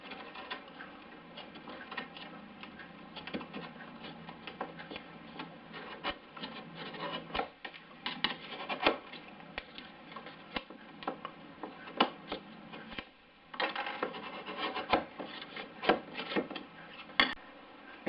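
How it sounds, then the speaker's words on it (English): Contrabassoon cane is gouged for an uilleann pipe chanter reed, giving close, steady scraping and rasping with irregular clicks and ticks from the gouging tool over about eighteen seconds, with no talking. "we'll gouge it in the usual way"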